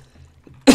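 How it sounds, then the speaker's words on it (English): A single sharp cough bursts out near the end, loud and close after a stretch of near silence with faint low murmuring. "I'm about to cough."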